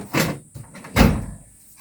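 In a workshop, a drawer slides open and shut in two quick scraping, thudding strokes, close and fairly loud, with no one talking.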